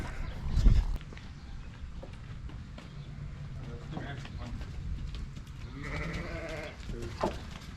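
Twenty cull ewes penned in a farm shed bleat intermittently, with one louder wavering bleat near the end, amid shuffling hooves and a knock, while people talk nearby.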